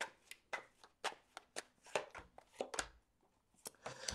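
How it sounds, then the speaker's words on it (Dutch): Tarot cards being shuffled by hand, a series of soft, quick riffling slaps at a fairly even pace, close and quiet with no voices. "Dan de kaarten schudden om te kijken wat deze week voor jou gaat brengen."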